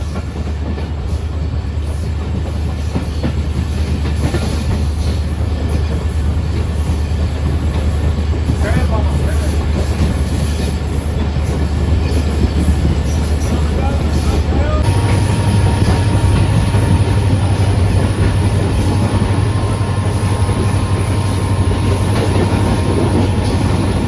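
The 151UP Shah Latif Express runs from Karachi to Hyderabad, heard from on board as a loud, unbroken rumble of wheels and carriages with a steady clatter that does not let up.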